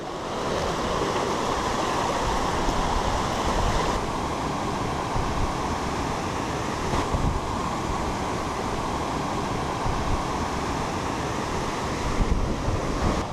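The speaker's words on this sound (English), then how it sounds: "We've got the waterfall behind me drowning out my voice" Inverarnan Falls tumbling into a loch makes a loud, constant roaring rush of water that stays steady throughout, with no voices.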